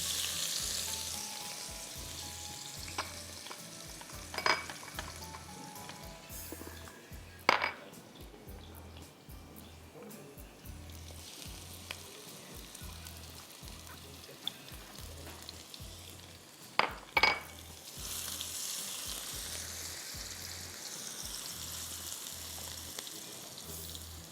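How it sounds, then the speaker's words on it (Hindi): Onions fry in a pan with a quiet, continuous sizzle, joined by a few sharp clinks and bumps of utensils against cookware and a low rhythmic hum underneath; no voices. "प्याज डाल दीजिए आप इसमें 2 टेबलस्पून"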